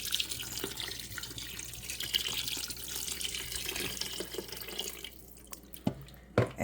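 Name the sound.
pouring organic vegetable broth into a pot of collard greens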